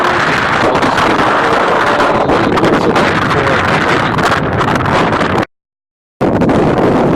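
Steady breeze gusting across a sunny mountain pass, a loud broadband rush of wind buffeting the microphone almost continuously, cut by a brief dropout near the end before resuming.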